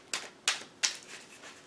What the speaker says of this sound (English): let me just try to shuffle these and see